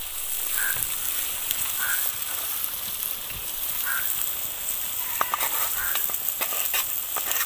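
Mustard and poppy seed paste sizzles in a pan of cooked-down spices for a rohu fish curry, a steady, hissy frying sound with scattered small pops and crackles throughout, close up and without voices.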